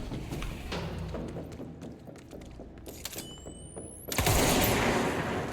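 Gunfire in the video game Control, a steady patter of rapid shots and thuds that ends in a sudden loud burst of blasts, with a rising whine just before it.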